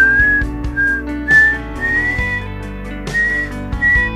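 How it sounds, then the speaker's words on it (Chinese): A person whistles a short tune in clear repeated phrases, loud and close over soft background music, with no talking. "耳旁再次响起了口哨声"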